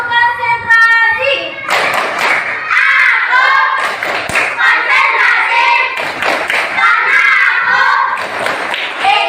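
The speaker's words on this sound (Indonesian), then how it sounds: "Tepuk konsentrasi." Schoolchildren in a classroom do a rhythmic concentration clap, sharp hand claps in a patterned sequence under loud group chanting, near and lively.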